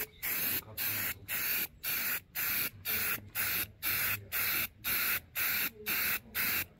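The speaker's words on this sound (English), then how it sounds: "I'm using this spray, and it's been working excellent" Silicone spray from an aerosol can being applied to a car part during routine maintenance: a steady series of about a dozen short, even bursts of loud, close hissing, each separated by a brief pause, with no talk.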